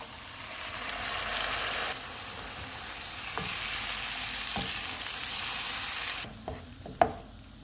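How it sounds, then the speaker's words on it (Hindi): Onions, garlic and tomato puree fry in a pan with a broad steady sizzle, then the hiss drops away and a few sharp clinks and taps of a spoon against the pan stand out near the end. "प्याज फ्राई हो गए हैं, इसमें लहसुन डालेंगे। इसको 1 मिनट तक फ्राई करेंगे। टमाटर की प्यूरी डालेंगे।"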